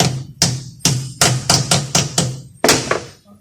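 A rubber hammer taps a part into a 6L80/85 automatic transmission being rebuilt, about eight close, dull, solid thuds in an uneven rhythm, each dying away quickly.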